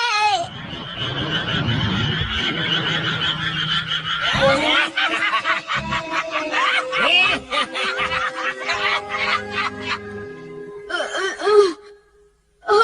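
A cartoon frog croaks in bursts amid chaotic animated action, with gasps and snickering voices mixed in and a sudden silence near the end.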